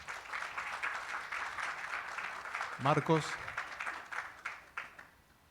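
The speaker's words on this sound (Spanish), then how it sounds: "Un aplauso para Silvia entonces" Audience clapping at a panel on the naval industry, moderate steady applause, with someone speaking briefly over it midway before it thins out.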